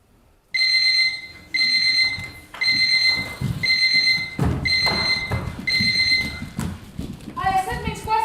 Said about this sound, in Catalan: A les 7:15 sona el despertador.